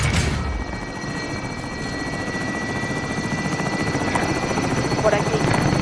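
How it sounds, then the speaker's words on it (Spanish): Helicopter hovering in a Call of Duty Warzone match, its steady rotor chop and engine drone filling the scene loud and continuous throughout, without voices. "Helicóptero en posición."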